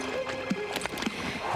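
The horse Garnet plods through a muddy marsh with a few soft, irregular hoof thuds and squelches, close by and fairly quiet over a low outdoor background.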